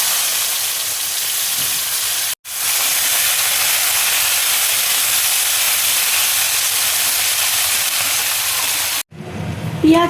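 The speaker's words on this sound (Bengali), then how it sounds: "এবার দেখো পেঁয়াজ কুচি দিয়ে দিচ্ছি" Chopped onions hit hot oil in a wok already tempered with dried red chilli and nigella seeds, giving a loud, steady broadband sizzle that cuts out briefly twice, with no talking.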